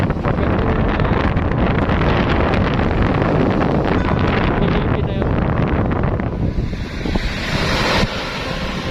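Steady, loud wind roars against the microphone at a beach resort in Cabangan, Zambales, along with a broad rush like surf, continuous throughout with a slight drop near the end.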